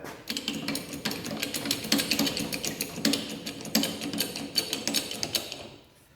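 Bench top hydraulic press bending a 1/4 by 1 inch steel bar, a busy stream of rapid mechanical clicks and ticks from pumping the handle, close and steady, fading out at the end.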